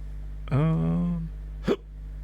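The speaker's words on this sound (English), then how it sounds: "Got the hiccups." A single hiccup, then a second sharper hiccup about a second later, close and fairly loud from someone who has been drinking wine, with a low steady hum underneath.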